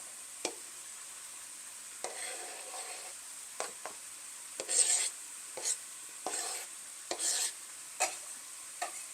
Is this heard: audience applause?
no